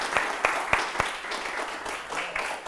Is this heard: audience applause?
yes